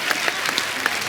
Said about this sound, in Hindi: यार एक बात के लिए तो तालियां बनती हैं,